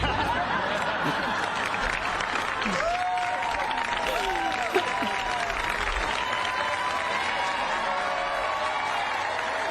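Audience applause and cheering at a live talk event, a steady crowd clatter filling the whole stretch with a few brief voices and whoops rising over it.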